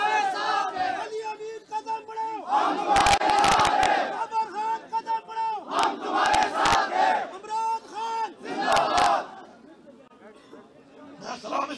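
Large protest crowd of PTI supporters chanting a slogan in unison, loud rhythmic shouted phrases repeating several times with cheering and babble between them.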